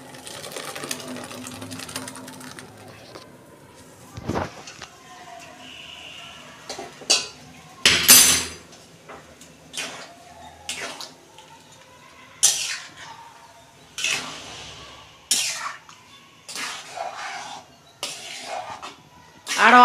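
Cooked rice and lentils tipped from a pot into simmering vegetables for a Bengali Gobindobhog rice khichuri, heard as a run of separate clanks, scrapes and wet slops of metal utensils, close and moderately loud.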